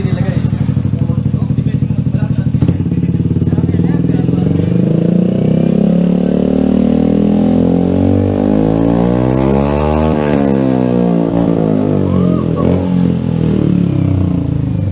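Big bike motorcycle fitted with a carbon R11 shorty exhaust revving hard and continuously, loud and close, with rising and falling engine pitch sweeps throughout.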